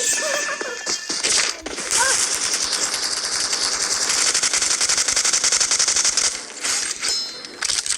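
Rapid automatic gunfire in PUBG Mobile, dense and loud bursts filling most of the stretch, with brief pauses and faint voices mixed in.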